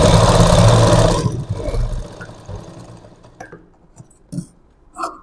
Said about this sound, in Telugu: సేమ్ ఇందాక యాస్టీజ్ ఎలా అయితే కుట్టామో సేమ్ అదే విధంగా కుడుతున్నాను